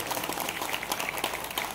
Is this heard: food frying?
no